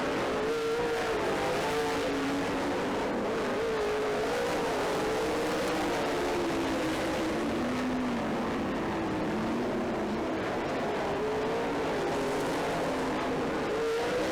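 Race cars lapping a short track during a racing event, a continuous loud engine roar with rising and falling pitch as cars pass, steady throughout with no talk.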